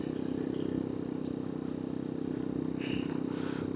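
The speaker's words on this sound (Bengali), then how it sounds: "বাইকের থ্রটেলটা কানে যখন লাগছে, আসছে, ওফ সুন্দর লাগছে।" Motorcycle engine droning steadily as the rider rolls the throttle on a mountain road, a close, continuous low rumble with faint clatter and no talking.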